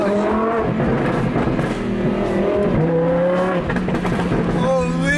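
A Ferrari engine drones and revs loudly and steadily, with a continuous roar and occasional sharp exhaust crackles.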